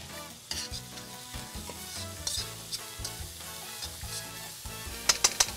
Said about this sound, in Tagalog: habang mainit na yung ating mantika, sutin natin ang ating bawang